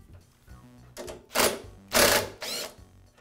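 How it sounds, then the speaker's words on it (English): Mechanical ratcheting and clicking from tools loosening a cable bracket on a Toro lawn mower during brake cable replacement, heard as several loud close bursts in quick succession. "I'll begin by loosening the cable bracket."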